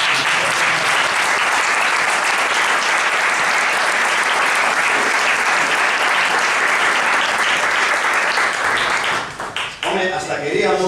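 Loud, sustained applause from a crowd at a bowling-alley gathering, dense clapping that continues for about nine seconds before thinning into a few scattered claps.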